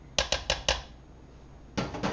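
Tuna noodle casserole ingredients are tossed and mixed in a bowl, giving four quick clinking, scraping hits close by, a short pause, then another burst of clatter.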